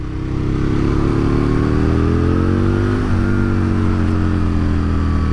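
A bored-out 1000cc twin-cylinder Aprilia RSV Mille sport motorcycle engine revs loudly and steadily up close, a deep throbbing note rising and dipping slightly partway through, with no talking.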